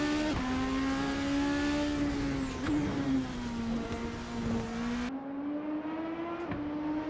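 Super Formula open-wheel race car in Assetto Corsa at Lusail, its high engine note holding steady and rising through the gears, loud and close throughout, with brief dips on downshifts and no talking.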